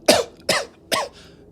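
Three harsh, separate coughs ring out in quick succession at close range, each a short rough burst followed by a brief fading tail, with no talking over them.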